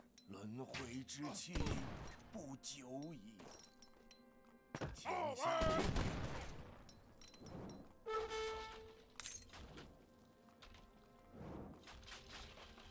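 Abus guns and other troops clash in an Age of Empires 3 battle, with heavy thuds, booming shots and impacts scattered through the scene while a commentator talks over the action.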